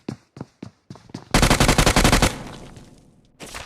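Gunfire in a mobile battle royale game: several sharp single shots, then a loud rapid automatic burst that tails off, followed by another shot near the end.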